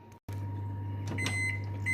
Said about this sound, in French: je vais les mettre donc au micro-ondes pendant 2 minutes d'abord